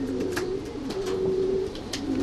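A racing pigeon in a loft coos with low, repeated throaty calls, heard close and fairly loud over a constant background hum.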